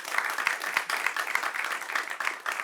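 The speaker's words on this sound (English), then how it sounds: "But a round of applause for him, please." Studio audience applause fills the whole stretch, a dense steady patter of many hands clapping at moderate loudness with no talking over it.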